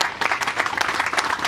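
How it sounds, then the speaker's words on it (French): An audience applauds at a public announcement of a free medicine distribution, the clapping dense and steady at close range with a faint murmur of voices underneath. "Et je crois que ça vaut des applaudissements de la part de tous"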